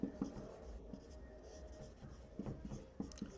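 Pen writing on paper during a Class 10 maths lesson, with soft scratchy strokes in short bursts that fade in and out at close range, quiet and without talk.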